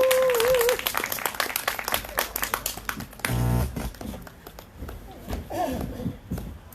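An outdoor candlelight rally crowd claps to welcome a singer from Daegu, uneven rattling applause with scattered sharp claps that thins out, a brief tonal sound near the start and a voice briefly heard.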